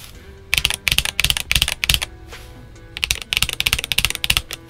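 Someone types quickly on a Redragon K631 Pro SE 65% keyboard with red switches, producing close, crisp bursts of rapid key clacks in two flurries split by a short pause.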